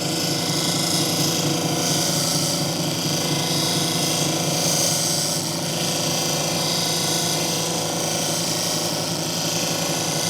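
Lapidary grinding wheel running steadily while polishing banded iron jasper at 600 grit, a continuous loud broadband whir with a low motor hum, unbroken for the whole stretch with no talking.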